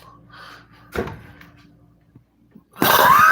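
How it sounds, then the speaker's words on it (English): A man with a bad, lingering cough lets out one sharp cough, then after a quiet pause a louder, rougher burst near the end. "I got a bad cough"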